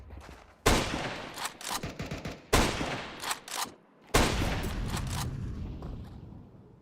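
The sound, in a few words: gunfire in Counter-Strike video game match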